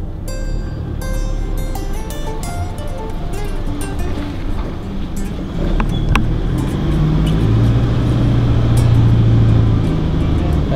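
An Isuzu pushes through deep, soft Kalahari sand and bogs down at the rear, its engine droning low and steady, then swelling louder and harder-worked in the second half with no voices.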